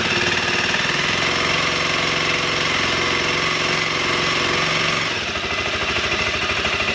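A small engine idles and revs under light throttle on a cold day, a loud, steady rattling drone that drops to a rougher, lower idle near the end.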